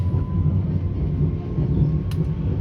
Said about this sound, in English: going down the train tracks under the bridge